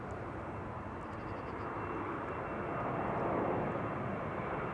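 A KLM Embraer narrow-body jet at Amsterdam Schiphol Airport roars steadily at a distance, a broad continuous engine rumble swelling slightly as it passes.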